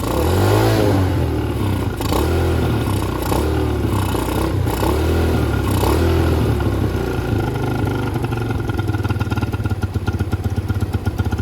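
Small engine fitted with a Nibbi carburetor idles steadily and loudly throughout, with light clatter and a faint rise as the idle screw is adjusted, no voices.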